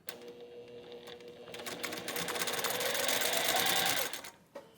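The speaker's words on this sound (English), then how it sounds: "Let's go ahead and sew that together." A sewing machine stitches quilt-block fabric in a fast, steady whirring run of rapid clicks that builds for about four seconds, then stops, followed by a small click.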